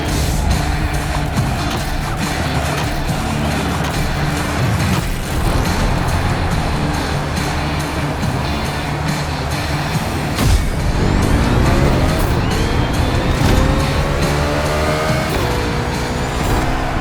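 Race cars idle and rev through a NASCAR-style pit stop in The Crew Motorfest, a steady loud engine roar with rising tones and a sharp whoosh partway through.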